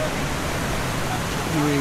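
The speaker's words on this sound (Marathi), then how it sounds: "समोरच्या बाजूनं वाहणारं पाणी" A brief stretch of steady, close water flow from a forest stream on the Adrai trek, a broad even hiss like a running stream, with faint tonal voice-like traces toward the end.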